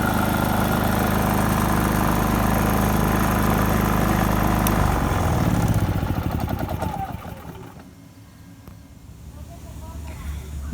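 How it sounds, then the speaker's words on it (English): A Predator 3500 inverter generator runs loud and steady at first, then its engine note drops and winds down around the middle, leaving a quieter, lower rumble that lingers to the end. "We had the generator running for about an hour"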